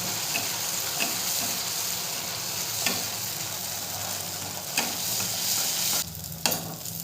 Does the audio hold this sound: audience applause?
no